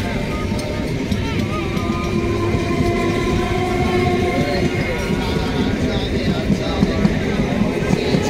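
A Ranaghat–Lalgola EMU passenger train passes near Rejinagar station, with a loud continuous rumble and clatter of rolling wheels and rail noise throughout, close and steady.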